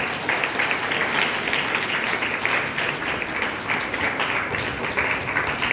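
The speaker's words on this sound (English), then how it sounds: "Let's give her a huge round of applause." A large audience gives a sustained round of applause for a woman presented with a floral bouquet at a ceremony, continuous dense clapping at an even, fairly loud level for several seconds.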